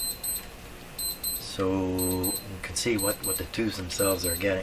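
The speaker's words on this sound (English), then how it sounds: "Now that's the alarm clock that I cannot stop from alarming." An alarm clock rings in a room beside a vintage Eatons Universal Electrohome floorstanding tube radio, sounding as rapid repeating high beeps in short bursts beneath someone speaking.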